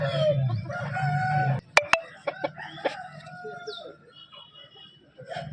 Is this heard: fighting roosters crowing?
yes